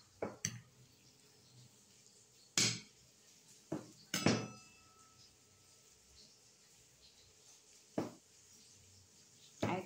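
Boiled raw bananas mashed and mixed in a small utensil make sporadic metallic clanks and knocks separated by quiet gaps, a few sharper hits standing out against a soft background, with no talking.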